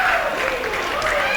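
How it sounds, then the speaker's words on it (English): A wrestling match crowd roars and cheers in a dense, continuous wash of noise that stays loud and steady throughout, with a few raised voices standing out within the din. "This wrestling crowd is going crazy."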